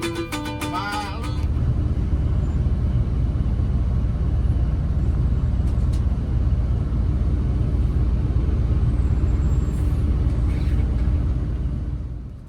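A Brave Trans intercity bus coming in from the Tangerang direction, its loud, steady low engine rumble close by and filling the scene for about eleven seconds, with no talk.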